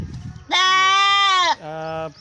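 An Osmanabadi billy goat bleats loudly and close by at a goat market, a long wavering cry followed by a shorter second bleat.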